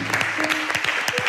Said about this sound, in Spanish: A ustedes aplaudan.